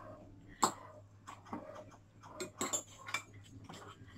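Utensil clinks and scrapes against a pot or bowl while stirring Lucky Me pancit canton instant noodles, irregular taps close by at low volume.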